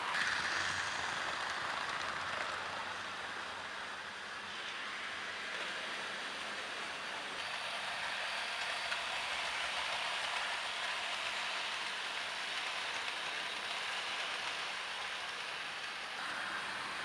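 Two Hornby model steam locomotives, one in LNER livery, running on model track, a faint steady whirring and clicking of small motors and wheels throughout, quiet and without talk.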